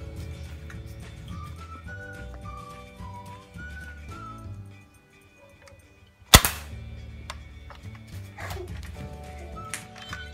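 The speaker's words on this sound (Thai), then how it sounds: "ยิงปืนเนิร์ฟกัน" A single sharp Nerf gun pop cracks out partway through, loud and sudden against soft background music with whistly tones.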